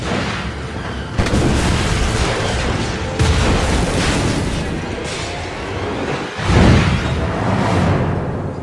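Heavy naval cannon fire from a sailing warship in Assassin's Creed Rogue: loud, sustained booming barrages with sudden onsets near 1 and 3 seconds and a sharp blast around 6.5 seconds, under rumbling battle noise.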